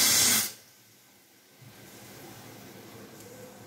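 A small pressure cooker cooking dal on a gas stove sounds its first whistle: a loud, sharp burst of hissing steam for about half a second, then it cuts off to a low, faint background hiss.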